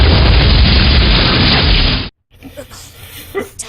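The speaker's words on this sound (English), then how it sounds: "Exploding cards!" A staged exploding-cards effect bursts in a loud, dense rush of noise for about two seconds, then cuts to near silence followed by faint scattered rustles.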